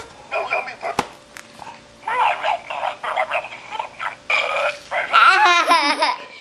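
A musical greeting card plays its electronic burping sound up close, tinny and bursty, mixed with laughter-like and chattering squeals from the card's soundtrack.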